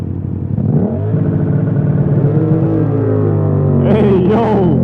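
A 2020 Yamaha MT-07 idles with a steady low rumble, then its engine note climbs smoothly as the clutch is slowly let out and the bike pulls away, close and fairly loud.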